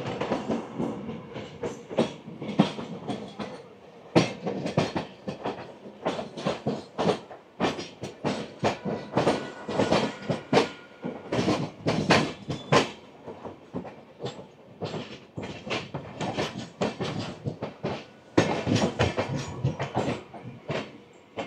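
The Kanchanjangha Express runs out of Sealdah station, wheels beating a loud, rapid clickety-clack over rail joints, with dense, uneven bursts of rattling that continue throughout.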